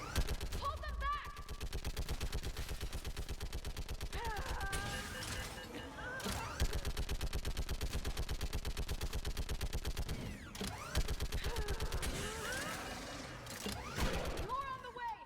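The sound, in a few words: gunfire in the video game Mass Effect 3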